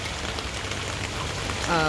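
Rainwater trickling through an Oatey rain barrel diverter during rainfall, a steady close splashing wash with a brief brighter tonal burst near the end.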